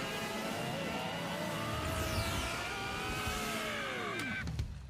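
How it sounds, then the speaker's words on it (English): A stylised anime engine-revving effect from My Hero Academia rises and sweeps in pitch over steady loud noise, ending in a sharp burst. "he really busts out the engines for it"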